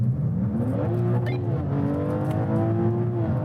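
BMW M3 and Ferrari accelerating hard in a rolling half-mile race from 50 mph, heard as a loud, close engine roar rising in pitch through gear changes, heavy and continuous with no talk.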